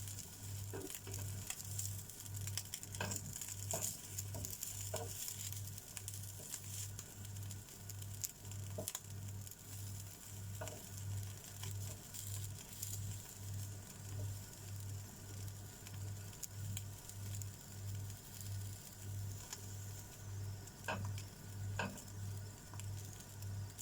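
A breakfast quesadilla cooking in a pan, a soft low sizzle with faint scraping and stirring touches, a steady low hum underneath, fairly quiet and close with no talk.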